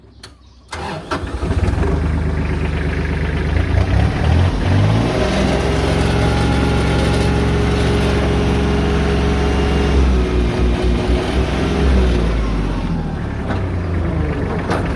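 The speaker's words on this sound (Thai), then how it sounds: "ฟังเสียงเครื่องยนต์ครับผม" An Iseki 39-horsepower four-wheel tractor with front blade and rotary tiller starts up, then its diesel engine idles steadily and loudly up close, with slight changes in revs and no talking.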